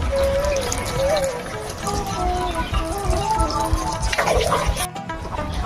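Water pours steadily into a cooking pot of spiced potatoes and chicken, a continuous close splashing trickle that holds throughout before briefly cutting off near the end.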